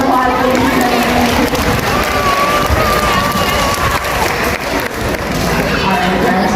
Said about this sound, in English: Let's give Groucho a big round of applause, ladies and gentlemen